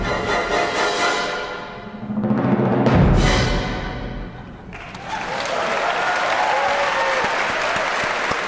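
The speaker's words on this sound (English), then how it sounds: "Golf clap." Crowd clapping and cheering breaks out after a swelling orchestral finale of In the Hall of the Mountain King, the music crashing to its last chords before dense, steady applause takes over.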